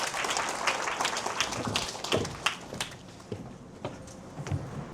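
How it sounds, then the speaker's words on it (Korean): Audience at a university admissions seminar claps for several seconds, a dense patter of hand claps that thins out toward the end. "박수로 부탁드립니다"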